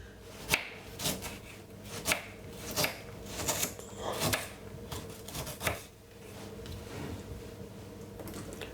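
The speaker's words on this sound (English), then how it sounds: "I have a piece of a ginger, which I'm going to be cutting off a lovely chunk piece of a ginger" A knife chopping off a chunk from a piece of ginger on a board, a series of sharp, close cutting taps at irregular intervals.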